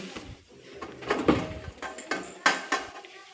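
Steel cooking pots are handled inside a kitchen trolley, giving close metallic clanks and scrapes, a cluster of knocks followed by several separate sharp clinks with short pauses between them.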